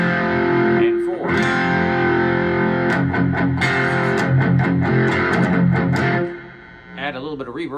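A four-string cigar box guitar in FCFC tuning plays metal licks through the heavy overdrive of a Roland Cube 10GX amp, loud and distorted with sustained notes and choppy strums, fading into a brief quieter pluck at the end.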